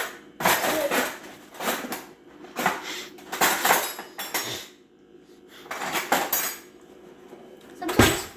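Metal spoon scraping and clinking against a very hot pan while rice is scooped out, several bursts of utensil-on-pan scraping with short pauses in between, close and fairly loud.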